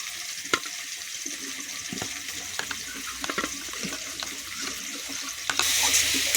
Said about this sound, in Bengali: ধনে গুঁড়ো এবার একটু জল দিয়ে দেবো।